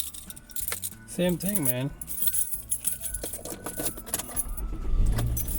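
Car keys jangle as they are handed over inside a car during a drive in Mississauga, Canada, a brief metallic rattle among cabin noise, with someone speaking over it.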